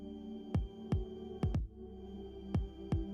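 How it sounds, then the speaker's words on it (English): Heartbeat sent from a smartwatch, a steady series of deep low thumps, six beats in about three seconds with one close double beat, heard alone over a soft hum. "Or you can even share something as personal as your own heartbeat."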